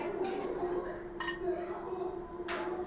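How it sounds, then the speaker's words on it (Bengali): Kitchen knife cutting peeled hard-boiled eggs into thin slices, a few soft taps and clinks on a board at close range, with a steady hum behind. "এবার ডিমটাকে আমি পাতলা করে স্লাইস করে কাটবো।"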